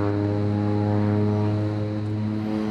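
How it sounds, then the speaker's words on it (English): Propeller plane droning overhead in the morning near an Australian rainforest, a steady, fairly loud buzzing hum with strong evenly spaced harmonic tones, unbroken and alone for the whole stretch. "Sounds like there's a plane flying around this morning."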